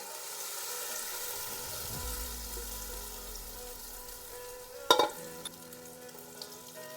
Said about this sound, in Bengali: তেলটা বেশ গরম হয়ে গেছে, এখনই দিয়ে দেব।